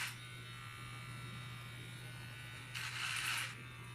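Small electric kids' hair clippers from Bimirth buzz steadily at close range while trimming a child's hair, with a brief louder stretch as they bite into the hair.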